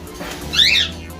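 A single sharp squawk from a pet aviary bird rings out briefly, close and fairly loud, over faint low background hum.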